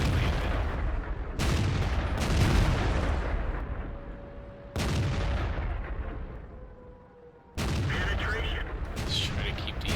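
Tank cannon fire in World of Tanks, with three loud, sudden booms spaced a few seconds apart, each followed by a decaying rumble and lingering mechanical noise.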